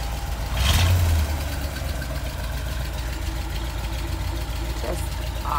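A 1963 Chevrolet Corvette split-window engine idling close by, a steady low rumble with a brief louder swell early on, then an even, constant drone.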